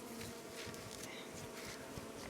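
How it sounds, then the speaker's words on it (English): Honey bees buzz at a struggling mountain hive during a spring inspection, a soft steady hum of many wings close by with no talk. "The bees are bringing in pollen."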